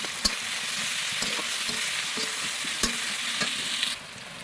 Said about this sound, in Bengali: এখন আমি পেঁয়াজ ভাজার ভেতরে দারচিনি, এলাচ, তেজপাতা দিয়ে দেবো, দিয়ে একসাথে হালকা করে পেঁয়াজের সাথে ভেজে নেব